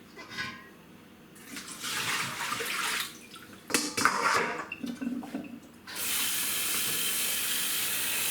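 Cold water pours from a tap in bursts, splashing over mushrooms in a container, then runs in a steady hissing stream near the microphone.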